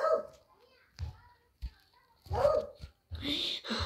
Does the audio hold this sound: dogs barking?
yes